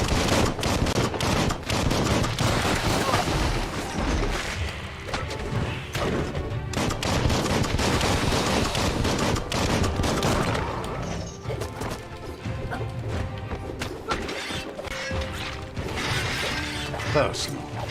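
Gunfire in the video game Biomutant, dense continuous bursts of rapid shots mixed with mechanical clatter and crashes, loud and sustained throughout.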